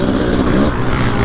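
A 500CR motorcycle engine revs loud and close, a raw buzzing drone that wavers slightly in pitch across a short burst.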